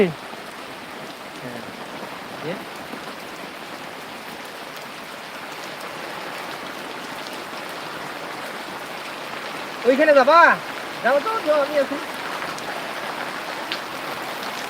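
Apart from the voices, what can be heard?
heavy rain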